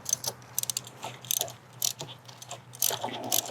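Quick ratcheting clicks from a 13 mm ratchet loosening the bolt on the transmission filter lines of a 2009-2013 Audi A4 B8 with a CVT, in short repeated bursts separated by brief pauses, close up over a low steady hum.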